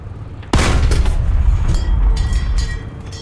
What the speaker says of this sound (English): see if we can get a couple shots out here